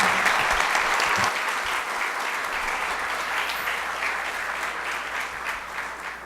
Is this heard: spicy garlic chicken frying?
no